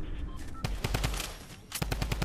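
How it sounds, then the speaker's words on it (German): Rapid gunfire in the video game Fortnite cracks in quick bursts of sharp shots, loud and close, with a short pause between the two volleys. "Ah, Schuss auf uns."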